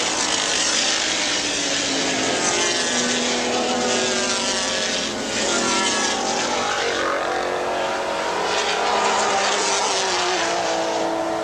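Turbocharged race cars roar past in the 1982 IMSA Camel GT race at Lime Rock. The loud, sustained engine noise swells and fades as cars pass in quick succession.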